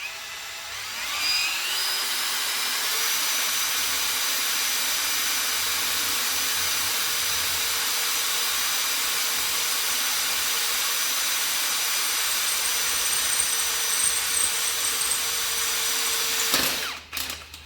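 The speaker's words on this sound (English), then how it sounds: "I think this drill bit's a bit blunt, but that's what you get with cheap drill bits." A cheap, blunt drill bit grinds steadily through a large RC helicopter blade, a sustained high whine that runs loud and unbroken for many seconds before winding down with a few clattering knocks at the end.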